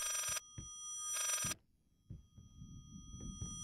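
An old-style telephone bell rings in the horror game Layers of Fear, giving two bright, loud bursts of ringing separated by a pause, followed by soft thuds and creaks.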